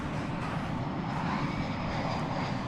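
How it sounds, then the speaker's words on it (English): American Airlines Boeing 777 jet engines at DFW Airport, a steady distant roar with broad low rumble and hiss, continuous and even, with no talk. "There is the American 777 that wants to go to London Heathrow"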